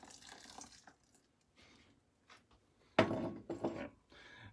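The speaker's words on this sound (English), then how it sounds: "so I'm gonna add just another half cup, so 4 more ounces water" Water pours into a Toddy cold brew system, adding a half cup. Faint small splashes and knocks come first, then a louder pour of about a second and a half, close by.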